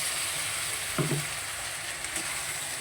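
Spice paste frying in oil in a pan as a little water is added for a Bengali fish curry, a steady close hiss and sizzle with a short bubbling flare midway.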